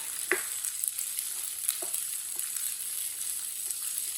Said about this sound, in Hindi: भिंडी डाल लेंगे। भिंडी को 2-3 मिनट के लिए पका लेते हैं।